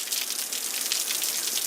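Heavy rain pours steadily during a Dallas thunderstorm, a dense, even hiss that holds at the same loudness throughout with no voices.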